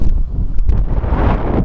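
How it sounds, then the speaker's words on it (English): Strong wind buffeting the microphone outdoors during metal detecting, a loud continuous low rumble with gusty roaring and no voices. "I don't know if you can hear me, but it's very windy."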